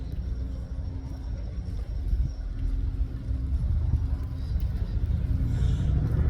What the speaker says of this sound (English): what we can see here is an Ajax and an Ares conducting reconnaissance